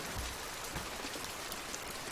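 Steady rain falls outdoors as a dense, even hiss of drops on surfaces, continuous and fairly close, with no voices.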